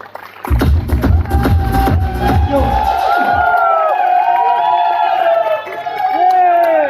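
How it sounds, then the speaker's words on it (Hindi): A loud crowd bursts into cheering and whooping, then the noise gives way to bright, sustained music tones. "जोरदार ताली।"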